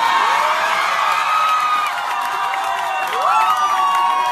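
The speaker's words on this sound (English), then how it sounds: "you're getting this big raucous applause and stuff like that" Raucous crowd cheering and whooping with applause at a political rally, loud and continuous throughout, with scattered shouts rising above the roar.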